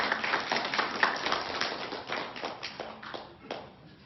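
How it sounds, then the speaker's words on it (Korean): Church congregation applauding after a sermon, a rapid patter of hand claps with a few sharper individual claps, steady for a few seconds and then thinning out, at moderate level. "우리 박수로 크게 화답하겠습니다."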